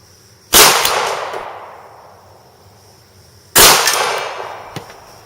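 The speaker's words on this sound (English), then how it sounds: "Just for the sake of comparison, I'll show you the kick of a 9mm Beretta." Two loud 9mm Beretta pistol shots about three seconds apart, each a sharp crack followed by a long fading echo, with no talking.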